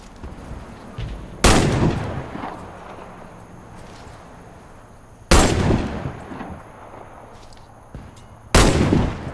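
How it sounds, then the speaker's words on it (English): Three loud, sharp sniper rifle shots ring out several seconds apart in the video game Warface, each one followed by a decaying echo over a low background hum. "Hit all the targets with your sniper rifle."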